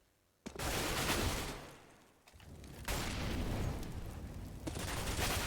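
P250 pistol fire and surrounding gunfire in a Counter-Strike match on the Cobblestone map. Dense, loud bursts of shots fill the clip in several waves, with a brief dip in the middle.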